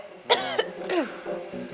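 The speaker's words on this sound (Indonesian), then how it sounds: "Kamu kalau batuk, jangan di muka Pak Le dong." A person coughs indoors at home, two harsh throaty bursts close to the listener, followed by quieter rumbling breaths.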